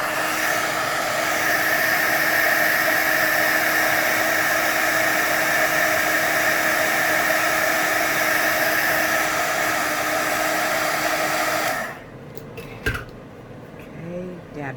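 A hair dryer blows steadily and loudly over a paper collage to dry wet paint, running for about twelve seconds before shutting off, followed by quieter handling sounds.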